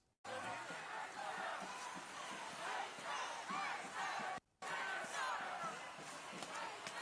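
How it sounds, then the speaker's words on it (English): Dense roar of a large protest crowd at a shutdown demonstration, played back as a recording: loud, continuous shouting and chanting voices with a brief cut of near-silence midway. "this is the crowd from the other day when they did the shutdown"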